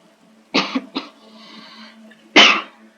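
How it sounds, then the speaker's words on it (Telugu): Three sharp, close coughs: two in quick succession, then a pause and a third, with near-silence in between. "నాకు అప్పుడప్పుడు దగ్గు వస్తుంది కొంచెం"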